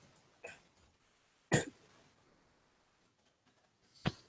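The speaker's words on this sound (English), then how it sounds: "Like I'm gonna cough every single second" A few sharp, isolated coughs or throat clears from a person at a computer, one strong burst in the middle and fainter ones near the start and end, spread over quiet room noise.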